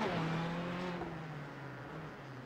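A Ferrari race car in the iRacing sim rolls into the pit lane, its engine note a steady, fairly loud drone that slowly falls in pitch as it slows, with no voices.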